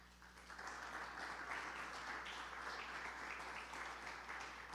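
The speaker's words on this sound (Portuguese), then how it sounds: "Aplauda o Senhor." Congregation applauding during a church sermon, a steady broad wash of clapping that holds for several seconds at a fairly quiet, distant level.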